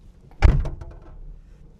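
The door of an old Ford Zephyr Mk3 barn-find car slams shut with a single heavy, close thunk, then a short rattle dies away into quiet.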